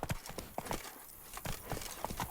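Roach, a horse in The Witcher 3, gallops with a steady, loud clip-clop of hooves in quick repeated beats, with faint game ambience underneath and no talking.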